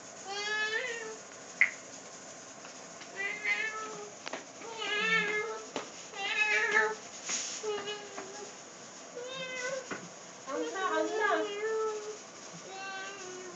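A cat meows repeatedly in short, pitched calls, mixed with a person's voice making meow-like sounds and talking nearby.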